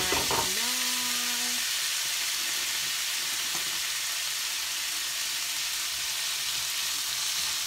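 Frying onions, spring onions and tomatoes are stirred in a hot pan for ackee and saltfish, a continuous sizzle with an early tonal squeak and scraping, then steady hiss.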